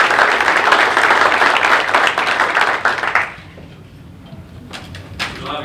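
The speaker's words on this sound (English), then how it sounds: "please, a round of applause" Applause from a crowd at a ring ceremony for 1987 Washington Redskins replacement players, welcoming Charley Casserly, fills the room loudly for about three seconds, then fades to low room noise with a few scattered claps.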